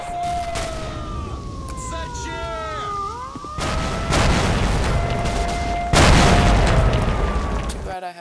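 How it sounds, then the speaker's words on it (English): Police sirens wail in a video game, rising and falling tones sweeping over a steady rumble of game noise, joined by heavy booming bursts that grow louder partway through; a voice talks over parts of it. "Oh yeah, okay, there are the sirens now."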